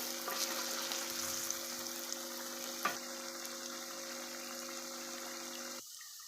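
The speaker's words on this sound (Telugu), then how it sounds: "ఈ అల్లం వెల్లిపాయ పేస్ట్ పచ్చి వాసన అంతా పోయేంత వరకు బాగా ఫ్రై చేసుకోవాలి" Ginger-garlic paste frying in oil for a chicken pickle, a continuous moderate sizzle with a steady low hum underneath and one small clatter midway; the hum cuts out near the end while the frying carries on.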